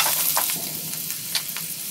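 Garlic and onion sautéing in a hot pan while being stirred, a loud continuous close sizzle with small scraping accents and no talk.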